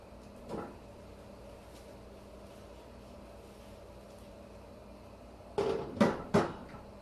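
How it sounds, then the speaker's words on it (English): A metal lid set onto a pan while injera cooks, heard as a few quick clanks and rattles near the end after a long quiet stretch with one soft knock early on. "go ahead and put your lid on"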